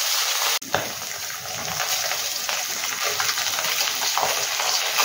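Katla fish pieces frying in hot oil give a steady, close, dense sizzle with faint stirring and scraping, broken only by one brief knock near the start.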